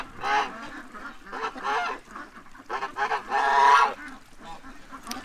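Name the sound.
geese honking loudly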